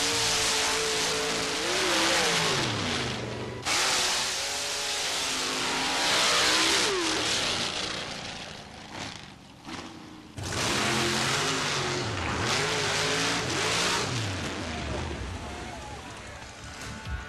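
Nitrous-burning drag race cars, including a Chevy rail with a 615 cubic inch motor, revving loudly and accelerating in rising and falling engine sweeps, with a brief drop-off midway before the roar resumes close and continuous.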